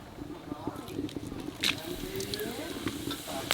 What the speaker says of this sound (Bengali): তেলের উপর কটা গোটা মশলা দিয়ে দেবো